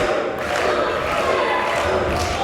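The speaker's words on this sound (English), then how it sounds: "Listen to the crowd come alive for Mark." Wrestling crowd at a WrestleForce championship match in Romford cheering and yelling for Mark, a loud, dense, continuous roar of voices filling the whole stretch with no gaps.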